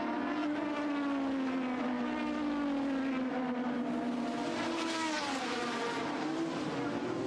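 A 1980s Formula 1 race car screams past at high revs, its engine note sliding slowly downward as it passes, with the roar of a second car layered beneath, loud and continuous.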